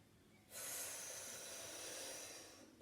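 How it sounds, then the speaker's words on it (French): A person draws a steady, audible breath in during a Pilates exercise, a broad airy hiss lasting a couple of seconds, close and alone with no talking. "On inspire"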